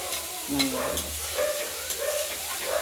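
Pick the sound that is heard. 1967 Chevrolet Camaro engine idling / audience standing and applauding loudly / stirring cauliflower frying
stirring cauliflower frying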